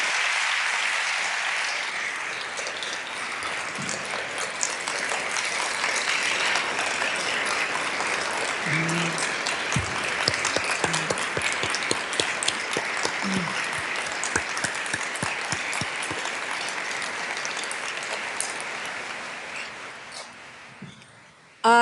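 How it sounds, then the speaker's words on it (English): Sustained audience applause fills a large hall during the New York Governor's 2024 State of the State address, a steady dense wash of many clapping hands lasting about twenty seconds, with occasional louder claps and a faint thump or two. "Let's give them both a round of applause."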